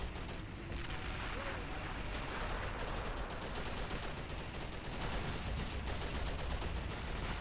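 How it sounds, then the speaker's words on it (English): Sustained machine gun and rifle fire crackles through a large battle in the Men of War video game, a dense continuous barrage with distant booms and no pause across the whole stretch. "Lots of MG fire."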